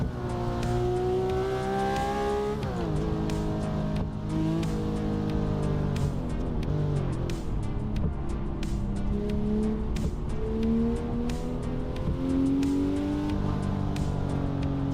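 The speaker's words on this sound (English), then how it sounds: "Let me drive a little bit here with the Porsche" A Porsche in a racing simulator game, its engine droning loud and steady with shifting revs and gear changes, continuous throughout with no voices.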